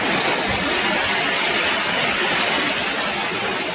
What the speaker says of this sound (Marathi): तर पावसाला सुरुवात